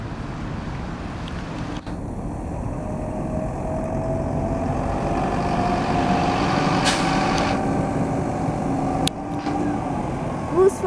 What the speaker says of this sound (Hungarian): Buszforgalom is van.